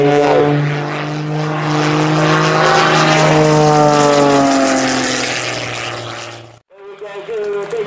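A light propeller airplane flies low and close at an air and vintage vehicle show at Little Gransden, its engine a loud, steady droning hum that holds for several seconds before cutting off abruptly.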